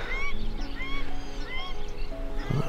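Wild ducks call overhead during a morning pheasant hunt, a flurry of honking quacks repeating in quick succession at moderate distance over a low outdoor hum.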